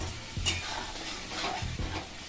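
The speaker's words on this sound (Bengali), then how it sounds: "এই মশলাটাকে আমি এবার তেলের মধ্যে কষিয়ে নেব" Spice paste sizzling in hot oil for Bengali chicken lababdar, with a steady close frying hiss and a couple of low stirring scrapes in the pan.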